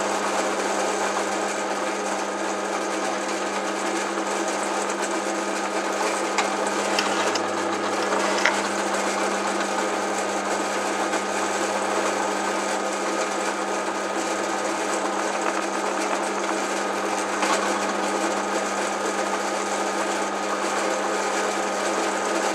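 A Dremel rotary tool drills a hole, giving a steady, high motor whine that runs unbroken for a long stretch, with a few brief louder catches and no talking.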